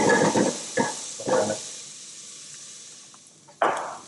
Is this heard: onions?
yes